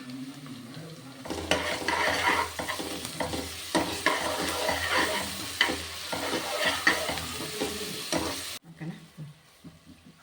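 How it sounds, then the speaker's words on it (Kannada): Garlic paste frying in hot oil for a white pulav while a spoon stirs and scrapes the pan, a loud close sizzle with repeated scraping strokes that cuts off sharply near the end, leaving faint clinks. "ಒಂದು ಸ್ಪೂನು ಬೆಳ್ಳುಳ್ಳಿ ಪೇಸ್ಟ್ ಹಾಕ್ತೀನಿ."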